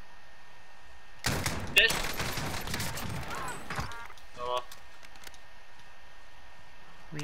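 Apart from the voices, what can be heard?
gunshots in the video game Call of Duty: Modern Warfare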